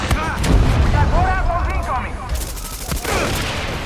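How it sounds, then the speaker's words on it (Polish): Gunfire and a heavy blast from a gasoline explosion in the shooter game Far Cry 6, loud and dense throughout, with a voice talking over the action. "Benzynka też ładnie wybucha"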